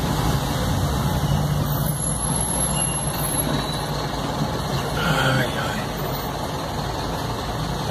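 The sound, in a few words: truck engine rumble heard through open window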